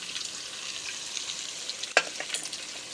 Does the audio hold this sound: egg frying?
yes